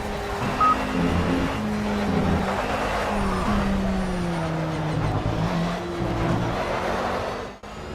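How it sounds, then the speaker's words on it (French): Race car engine at Le Mans in Project CARS, a steady close drone whose pitch climbs and drops through the gears, then cuts off abruptly at the end. "on sort bien de la dernière chicane et on lance notre premier tour rapide"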